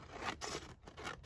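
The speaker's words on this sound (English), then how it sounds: "In fact, I'm going to cut it down on the edge," Paper for a journal being cut along its edge, a few quick close snips and scraping strokes in a short burst.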